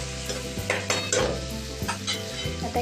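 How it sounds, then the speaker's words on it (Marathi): Onion and tomato sautéing in a pan with crushed chili paste: a close, bright sizzle broken by a few spatula scrapes and stirs, with faint background music running underneath. "त्याच्यानंतर पुन्हा टोमॅटो घालून त्याला सुद्धा पुन्हा परतून घेतले."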